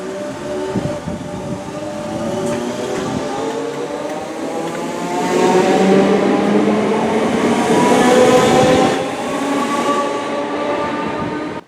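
A Merseyrail class 507 electric multiple unit train passes close by, its motors whining and rising in pitch over a steady rumble of wheels on the track.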